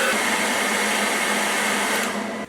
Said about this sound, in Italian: stress test del phon superato